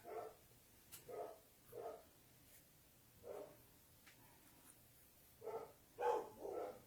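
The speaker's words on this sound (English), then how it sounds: "My dogs are being loud." Dogs bark in short, muffled bursts from another room, pausing between volleys, then barking more insistently near the end.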